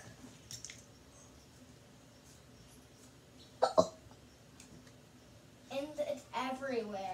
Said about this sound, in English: I'm just having the hiccups.